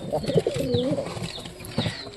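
Soft, repeated pigeon cooing in a low, burbling rhythm, with faint chirps and rustling around it.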